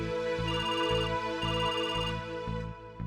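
A phone ringtone plays at night, loud and close, with a steady repeating melodic pattern that keeps ringing throughout before briefly dipping near the end.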